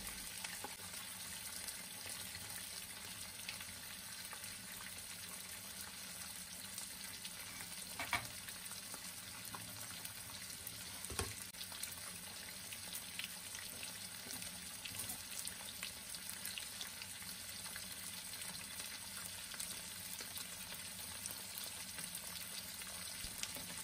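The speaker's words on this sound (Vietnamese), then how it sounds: "Trong thời gian rán thì mình để im miếng thịt, mình không được động đậy" Beef steak sizzling in butter and garlic in a hot pan, a steady loud fry left undisturbed, with a couple of brief clinks and no talking.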